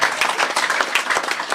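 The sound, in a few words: audience applause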